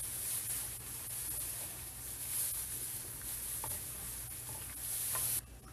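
Garlic fries in melted butter as it turns golden brown for baby potatoes, giving a soft, continuous sizzle with faint occasional pops and stirring ticks, steady and close with no voices.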